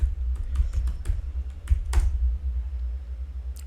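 Typing a ChatGPT prompt on a computer keyboard, a quick irregular run of close key clicks with short pauses, ending in a lone tap, no talking.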